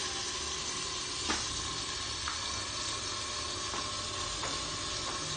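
Food frying in cooking oil in a covered pan, a steady close sizzle with faint crackles and occasional light pops, no one speaking.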